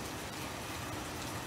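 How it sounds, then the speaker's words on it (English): Steady rain falls on a rainy afternoon at a hilltop cafe in Roxas City, a continuous soft hiss of drops on surfaces with no voices. "rainy afternoon"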